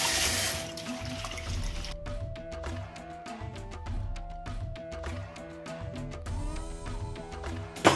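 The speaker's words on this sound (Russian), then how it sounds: "Сразу надо промыть чечевицу." Lentils rinsed under a running kitchen tap, a steady close stream of water splashing into a sink with clinking and rattling of the grains and bowl, continuous for the whole stretch.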